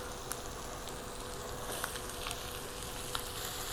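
Sausage, onions, apple pieces and cheese sauté in a pan for a pierogi casserole, a quiet, even sizzling hiss dotted with small sharp crackles.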